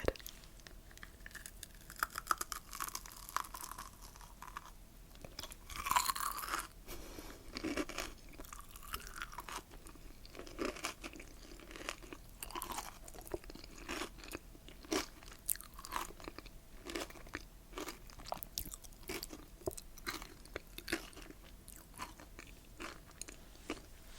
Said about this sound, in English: Let's go for another bite. And God, the crunch on these is really good.